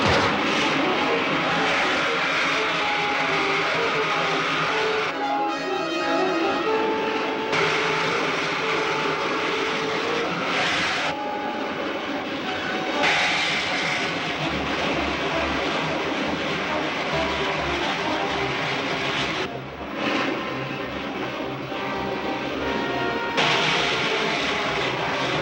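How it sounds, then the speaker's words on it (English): A 1952 serial's rocket ship main jets firing, a loud continuous roaring engine drone with shifting pitch filling the whole stretch, steady and close. "Fire main jets."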